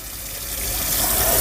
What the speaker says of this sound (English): Now I'm filling my basin.